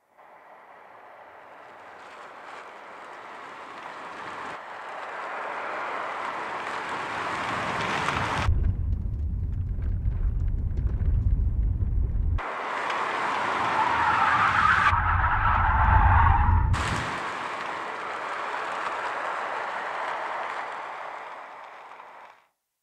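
Car tire skids for a sound design demo: a broad screeching skid swells and cuts off abruptly, with heavy low rumble bursts during two long slides, close and loud with no talk.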